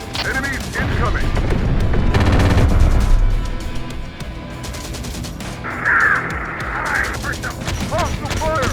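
Gunfire in the video game Terminator: Dark Fate - Defiance, bursts of shots with harsh mechanical cawing noises in a loud, continuous battle mix.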